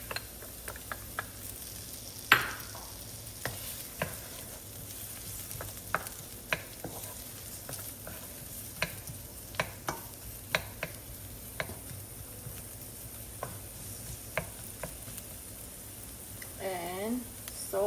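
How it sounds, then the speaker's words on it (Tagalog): Ground beef sautés in oil with garlic and onion, producing a soft, steady sizzle broken by scattered sharp clicks and scrapes of a stirring utensil, with a voice faintly present in the background. "Isutay lang natin ang ating ground beef."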